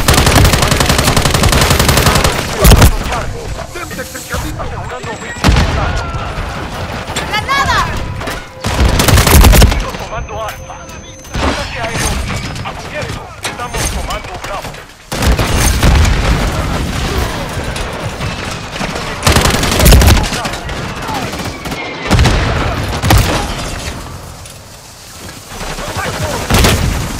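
Heavy automatic gunfire and scattered shots in the video game Call of Duty MW3, loud and continuous in repeated bursts, with faint voices underneath.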